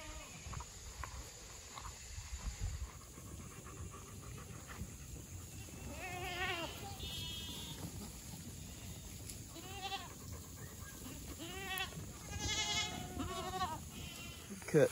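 Goats in a herd bleating from bushes in scattered bursts, several calls overlapping at times, over a steady outdoor background hiss and low rumble.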